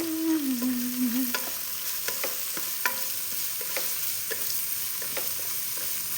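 Sliced onions sauté in a pan for egg biryani, a continuous sizzle with repeated light scraping and tapping of a spoon, close and fairly loud with no talk.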